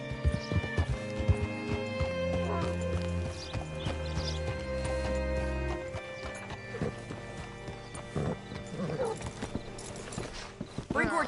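Horse hooves clip-clop in Red Dead Redemption 2, a clear run of hoofbeats slowing to a stop, followed by snorting and a whinny, with game sounds and voices around it.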